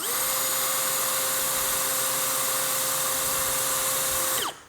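A Bosch GSB 185-LI cordless brushless hammer drill runs at a steady, loud, high motor whine close by, then winds down and stops at the end.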